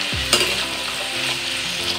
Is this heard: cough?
no